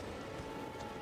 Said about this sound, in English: Or maybe it's because it's freaking raining again,